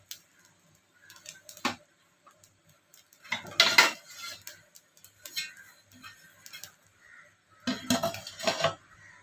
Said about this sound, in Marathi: तर आपण आता याच्यावरती झाकण ठेवणार आहोत